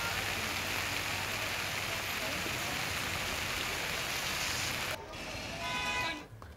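Heavy rain pours down steadily in Bhilwara, Rajasthan, a dense loud hiss filling the scene for about five seconds before the sound abruptly cuts to a fainter rush with rising noise.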